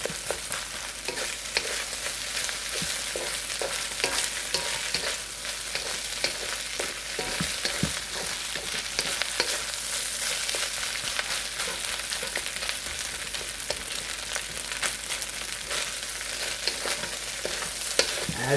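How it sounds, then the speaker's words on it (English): Bacon fried rice stir-fries in a hot wok, a loud, constant sizzle broken by repeated scraping and tossing clatters from the spatula, with no talking. "So just put it along the wok or put it along your pan. Break it up, make it look nice."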